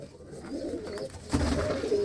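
Pigeons cooing in low, throaty murmurs that run continuously, close by, with a slightly louder burst of cooing toward the end.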